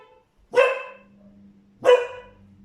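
A dog barks twice, two sharp, loud barks about a second apart close to the microphone in an otherwise quiet indoor room.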